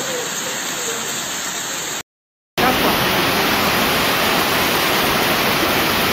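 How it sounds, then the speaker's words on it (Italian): Hailstones pelt and shatter on a balcony railing during a heavy hailstorm in Gravina, a dense, loud, continuous roar of impacts broken by a brief silent gap. "Quelli che vedete sono i chicchi di grandine che, cadendo a terra sul parapetto del balcone, si rompono."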